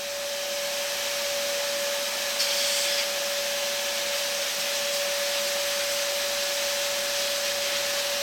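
A shop vac runs steadily with a Scotch-Brite pad tucked into its filter, a constant loud whine holding from start to finish with a brief rubbing burst partway through.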